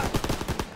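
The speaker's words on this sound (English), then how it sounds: "MGs, open fire." Machine guns firing in the Call of Duty WWII campaign, set in the City of Lights: a short, fast string of loud, evenly spaced shots with no voices over it.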